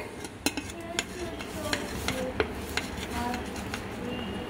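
Sesame seeds and jaggery are stirred in a pan, with a spoon scraping and clinking against the metal in scattered taps over a soft background hiss.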